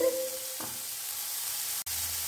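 Chopped tomato frying in a pan: a steady, close sizzling hiss with a brief low clunk near the start and one sharp click just before the end.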